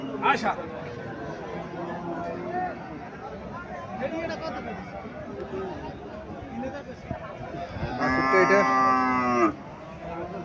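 A Sahiwal cow moos loudly and close by at a busy cattle market in Cumilla, one long drawn-out call near the end rising over a steady crowd hubbub and scattered animal sounds.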